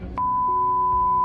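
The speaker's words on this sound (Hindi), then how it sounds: "चैनल को बीप करना पड़ा" A long steady censorship bleep on a news channel holds one high pure tone from start to finish, loud and alone apart from a brief thump at the onset.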